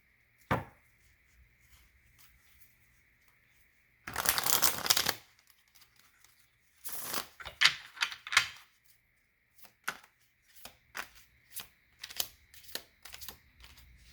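Small reading cards are picked up, handled and shuffled in quick papery bursts, with a long dense flurry and shorter scattered flicks against a quiet background and a steady faint tone.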